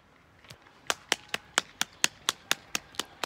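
Lone pair of hands clapping outdoors on a quiet Thursday evening during lockdown, about a dozen sharp, evenly spaced claps, fairly close, with faint background hush and no voices.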